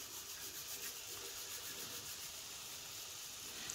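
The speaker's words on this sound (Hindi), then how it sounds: "इस तरीके से हाथों को रब करते हुए" Dried fenugreek leaves crushed between rubbing palms over a pan of spiced eggplant, a steady close dry rustling hiss that runs continuously with no speech.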